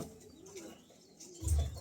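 Soft cooing from a pair of pigeons, a low murmuring coo that swells near the end, quiet and close with light background noise.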